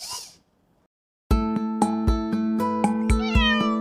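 MarsCat, a bionic home robot cat, lets out a short series of clear, close, tonal electronic meows in quick succession after a brief pause.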